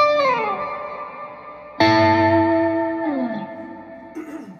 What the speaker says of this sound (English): This is the reverb on the slow